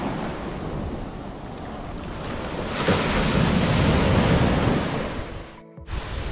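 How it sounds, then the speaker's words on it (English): Gulf waves roll up onto a sandy beach in a continuous close wash of surf, swelling louder midway before receding, with wind buffeting the microphone and a brief dropout near the end. "If you notice here, the waves are coming up."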